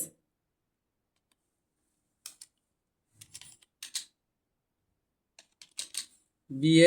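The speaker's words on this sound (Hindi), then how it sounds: "सबसे पहले हमने टाइप किया बीएस" Typing on a computer keyboard in Notepad, with short scattered bursts of clicking keystrokes separated by silence, close and fairly quiet, before a voice starts speaking at the end.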